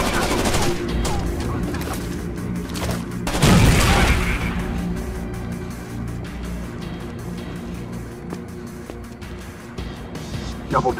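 A grenade blast and gunfire in the tactical shooter Rainbow Six Vegas 2, one loud close explosion partway through with bursts of automatic fire before and after over a busy battle background.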